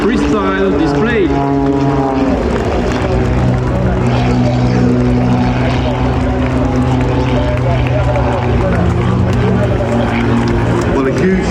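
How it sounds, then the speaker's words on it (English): French Air Force aerobatic team aircraft pass at an air show, a loud propeller drone with a falling pitch as it goes by and then a sustained engine hum, under an announcer talking throughout. "This was the French Air Force aerobatic team freestyle display."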